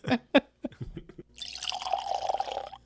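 Liquid pours from a heritage barrel in a steady, close gurgling stream, preceded by a few brief drips and clinks.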